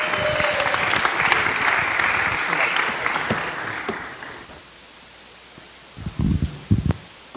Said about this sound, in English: So let's give a big round of applause to Swami Bhagavan Keshav Maharaj.